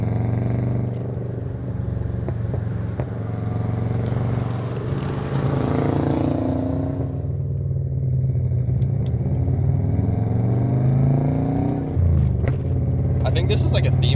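Twin-turbo 2-liter engine of a Subaru Legacy B4 rising in pitch as it revs on the road, a steady close drone heard in-cabin under ongoing conversation.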